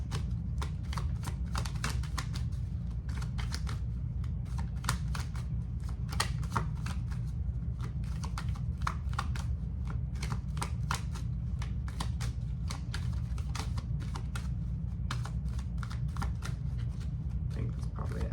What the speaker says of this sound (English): Anything else for Libra before I pull some oracle cards?